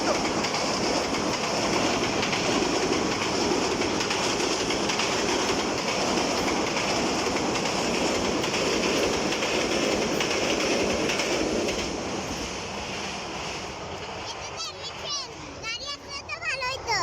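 A train passes on a railway line, a loud, close rumble and clatter of wagons that fades after about twelve seconds, with voices talking over it.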